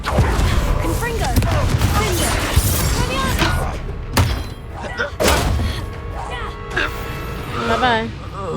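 Confringo blasting spell cast in Hogwarts Legacy, a dense barrage of booming thuds and explosive impacts under continuous game music and effects, with a few sharp cracks standing out.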